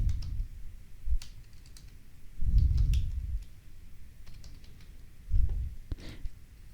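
Computer keyboard typing in short bursts of clicks, separated by pauses, fairly close and moderately loud, with no talking.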